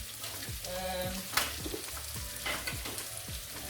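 Mussels frying in a pan, a steady close sizzle with repeated stirring scrapes and occasional clicks, fairly quiet, with no voices.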